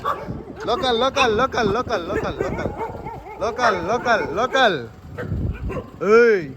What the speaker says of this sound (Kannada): ಇವ್ನು ನೋಡ್ಬಿಟ್ಟ ನಾಯಿಗಳು ಬೊಗಳ್ತಾ ಇರೋದು.